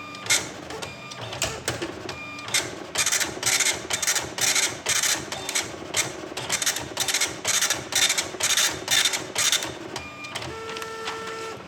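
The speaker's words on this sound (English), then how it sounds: "the printer is printing now" A DEC LA324 dot matrix printer buzzes and rasps through lines of printing in quick repeated bursts, close by, ending with a brief whirring tone as the head returns.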